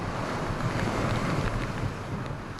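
Huge typhoon waves surge against the shore at Haeundae Marine City in Busan, a loud, dense roar of water and wind with no break.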